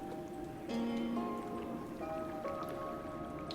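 Water dripping in the video game Oxenfree patters softly and steadily beneath sustained musical tones, a faint, even spattering mixed into the game's soundtrack.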